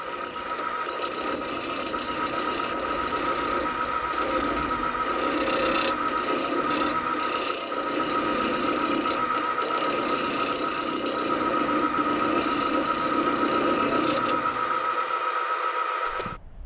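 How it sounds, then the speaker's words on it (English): A wood lathe spins a parquet bowl while a half-inch Robert Sorby bowl gouge cuts into it, making a steady motor drone with scraping and intermittent squealing tool contact that winds down at the end. "I'm going to be using my homemade Robert Sorby bowl gouge, 1/2 inch"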